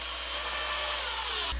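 A power drill drives pocket screws to attach the top of a wooden headboard, one steady loud whirring run close by that stops abruptly at the end, with no talking.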